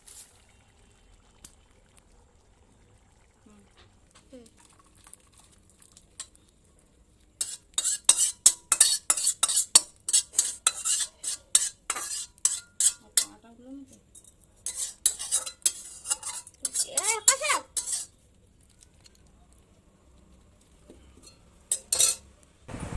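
Rajma, a kidney bean curry, stirred in a pot, with a quiet start followed by bursts of rapid, rhythmic spoon scraping and clinking against the metal, then a pause and a few final strokes.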